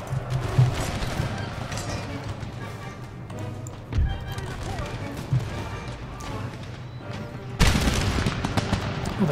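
Ragged musket volleys crackle from a line battle in Empire: Total War, the Worcester Regiment and marines engaged, with scattered shots throughout and a louder burst near the end over a busy game mix.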